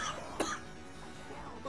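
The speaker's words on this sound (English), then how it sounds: "I couldn't even do that without coughing" A single short cough, faint and close, against steady background noise from a game session, with no speech around it.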